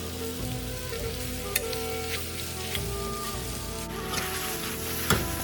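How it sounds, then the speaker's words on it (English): Vegetable hakka noodles with cabbage and green onion are tossed in a hot pan, giving a steady sizzle with occasional clanks and scrapes from the pan and utensil. "Now we're just going to give it a toss."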